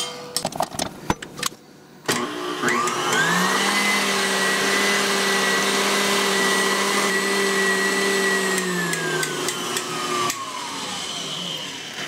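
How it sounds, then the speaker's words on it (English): An electric mixer beats eggs with egg powder, whirring steadily for several seconds after brief clinks, then its pitch drops as it slows and stops. "I'm going to put in my 2 tablespoons of egg powder and give it a little mix."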